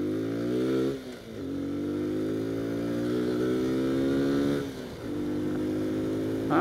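A Kawasaki Z125 Pro motorcycle with a 15-tooth front sprocket upgrade accelerates hard on a speed run, its small engine whining upward through rising revs with two brief dips at gear shifts, loud and close.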